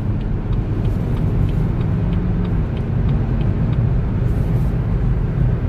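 A BMW 2 Series Gran Tourer 220 with a 190 hp engine accelerating, a deep, steady low rumble heard from inside, loud and continuous with no talking.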